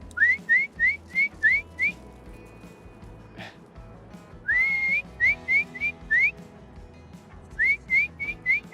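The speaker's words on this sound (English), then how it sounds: "And then just walk backwards and keep whistling." A person whistles repeated short rising calls in quick bursts to bring animals along, with pauses between groups and low rustling and movement underneath.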